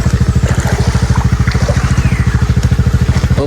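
Motorcycle pushing through flood water, its engine pulsing in a fast, even, loud rhythm close by, with splashing and gurgling water mixed in throughout.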